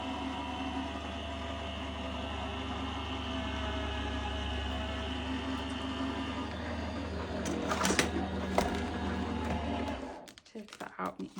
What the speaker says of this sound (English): pop the folder in with the cardstock and my plastic on top, and we'll feed that through the machine